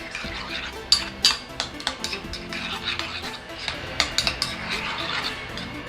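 Cutlery clinks and scrapes against a dish while soft-boiled eggs are stirred for a Chilean breakfast, a steady run of light metallic taps and chinks, close and fairly clear, with no talk.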